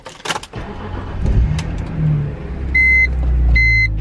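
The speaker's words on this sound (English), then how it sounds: "Just got this new Z4, and really the only option I have is to see what it sounds like with no muffler" A BMW Z4 with a straight-piped exhaust and no muffler starts up and rumbles loudly up close, with a low idle and light revving. A couple of short electronic chimes sound near the end.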